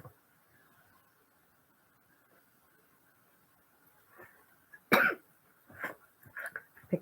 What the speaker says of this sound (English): Picked up a cough from somewhere.